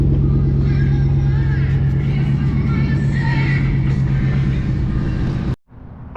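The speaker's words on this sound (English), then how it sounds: "All right, pull it out to the driveway," A 2006-2010 Dodge Charger rumbles steadily at low speed as it is driven out of a driveway, a loud, constant engine drone that cuts off abruptly near the end.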